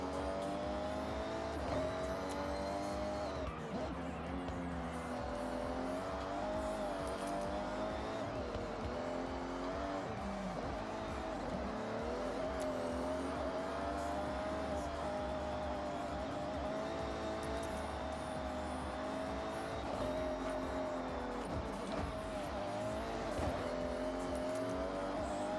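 A racing car engine in a driving video game roars continuously with wavering pitch as it accelerates and brakes, with tires squealing through corners, loud and close throughout.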